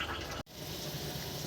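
Heavy rain falls outside a kitchen window in a steady, dense hiss of water, with one brief dip in the middle before the even rush resumes.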